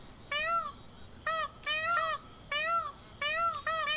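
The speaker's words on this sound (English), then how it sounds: "I heard a cat." A cat in the video game DayZ meows repeatedly, a series of clear, close, rising-and-falling meows in short bursts separated by brief pauses.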